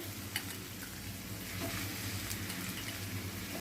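Turkey berries (sundakkai) frying in a pan for a spicy kuzhambu: a steady, even sizzle with faint stirring scrapes, continuous and close, with no voices.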